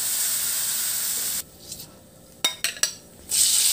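Pork hock (pata) pan-frying: a loud, broad hiss of sizzling oil drops away into quieter crackling with a few sharp pops and spatters, then the strong sizzle swells back.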